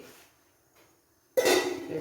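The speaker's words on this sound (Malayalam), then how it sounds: "ചട്ടി അടുപ്പത്ത് വെച്ചു" A metal cooking pan is set down on the stove while a yam stir-fry is being made, giving a sudden loud clatter followed by ringing, busy kitchen noise after a quiet stretch.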